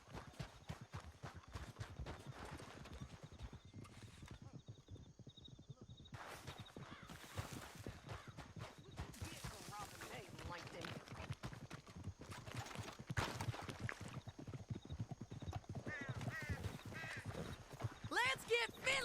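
In Red Dead Redemption 2, horses clip-clop along at a brisk, uneven pace with an occasional neigh, while voices talk over the hoofbeats and game sounds.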